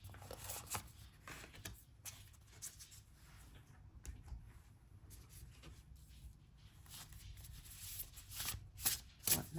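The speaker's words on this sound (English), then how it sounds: "I'm going to be choosing some cards from a few different oracle decks" A deck of oracle cards is shuffled by hand at close range, with soft repeated riffling and flicking bursts that build and grow louder toward the end, and no talking.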